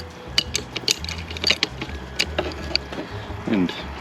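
Two adjustable wrenches tighten a hydraulic fitting on a quick drain hose for an excavator oil drain, giving a string of close, sharp metallic clicks and ratcheting scrapes over low background hum.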